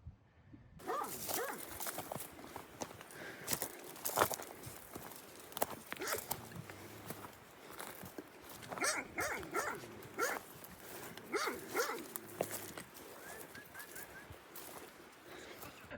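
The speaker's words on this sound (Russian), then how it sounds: "На нас выскочили собаки." Dogs from a shepherd's hut in the mountains rush out barking at passing hikers, repeated sharp barks at moderate distance over footsteps and outdoor ambience, continuing throughout.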